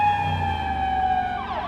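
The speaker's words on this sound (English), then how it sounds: "an ambulance just went by" An ambulance siren passes close by near a stadium on a university campus, its loud steady wailing tone holding then dropping sharply in pitch as the vehicle moves away, with no talk over it.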